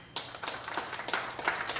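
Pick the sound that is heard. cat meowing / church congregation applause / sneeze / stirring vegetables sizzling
church congregation applause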